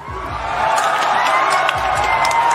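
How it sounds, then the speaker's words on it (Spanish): Crowd cheering and applauding boxer Gennady Golovkin at a boxing event, a dense, loud, sustained roar of voices and clapping that swells and holds steady throughout. "la gente explotó aplaudiéndolo, demostrando su apoyo"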